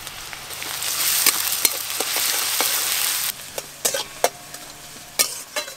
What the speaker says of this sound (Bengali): পেঁয়াজ কুচি আর রসুন কুচি ভালো করে ভেজে নিয়েছি।